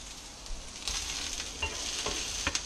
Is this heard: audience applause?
no